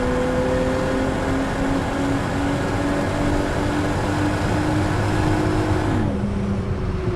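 A 1999 Plymouth Prowler's V6 drones steadily on the move, close and loud, its engine note holding then dropping slightly in pitch near the end, with no one speaking.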